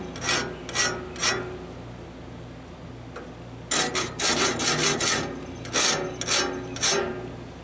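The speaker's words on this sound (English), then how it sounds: "And you can sharpen this tooth like this with a file." A hand file rasps across the teeth of a Woodmizer LT15 sawmill blade during sharpening, in short scraping bursts: three strokes, a pause, then several more quick close strokes.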